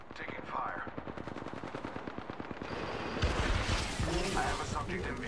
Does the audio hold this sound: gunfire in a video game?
yes